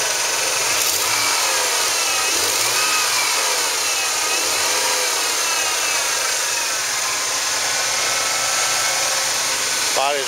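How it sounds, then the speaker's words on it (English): A 1997 Ford F-150 pickup's 4.9 six-cylinder engine idles steadily and loudly up close, with a constant whine from a noisy power steering pump over the drone. "Motor runs good."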